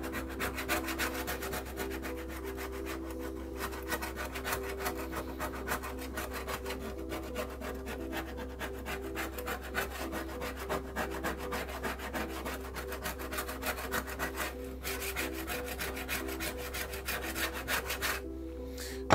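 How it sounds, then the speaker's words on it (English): A chisel is dragged steadily back and forth along a Warranted Superior hand saw blade to scrape away oil and grime, making a continuous rasping scrape that is close and fairly loud throughout. "we're going to come with our chisel, and we're just going to scrape all of that off"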